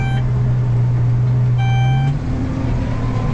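A tractor engine pulls a stubble cultivator through a field, a loud, steady low drone running throughout with a brief tonal whine in the middle and no talk.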